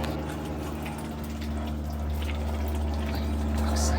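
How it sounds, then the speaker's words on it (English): Water is poured for a pet rabbit, a steady close trickle and splash running continuously over a low background hum. "I just gave him water."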